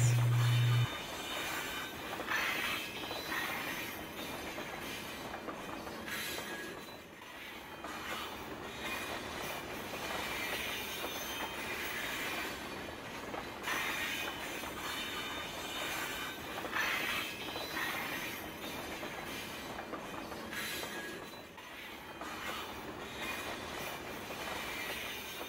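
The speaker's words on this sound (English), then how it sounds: "The train passed." A train passes along tracks beside a steep slope, a sustained rumble with squealing wheels and faint clatter that rises and falls over about 25 seconds, with no voices.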